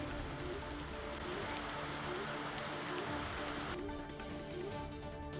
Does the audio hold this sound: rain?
yes